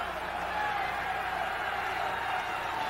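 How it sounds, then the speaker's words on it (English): A football stadium crowd in 1978 at a Baltimore Colts at Pittsburgh Steelers game, cheering on the defense: a steady, dense roar of many voices held at an even level throughout. "Crowd cheering for the defense to stop them"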